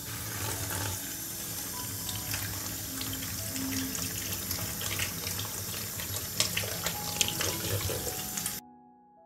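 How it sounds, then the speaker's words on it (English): Nine large mushrooms washed under a running kitchen tap, a steady close splash of water with small handling knocks, cutting off abruptly at the end. "I will wash 9 larger mushrooms"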